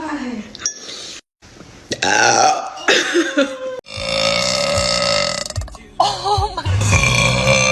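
A young woman lets out several loud, drawn-out burps in quick succession, close to the mic, with short gaps of silence and brief talking between them.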